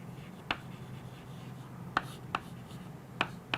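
Chalk or marker on a classroom board: a handful of sharp, isolated taps and ticks spaced unevenly over a quiet room hum.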